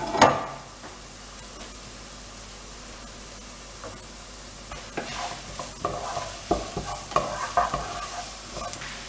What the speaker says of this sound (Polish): Całość podsmażamy chwilę